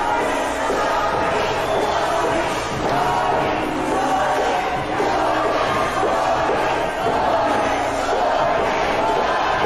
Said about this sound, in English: As we hear our great fans here in Plaquemine giving their best to our general manager.